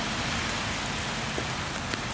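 Steady rain pattering down on goats standing in a wooded area, a dense continuous hiss of drops on leaves and ground with no talk.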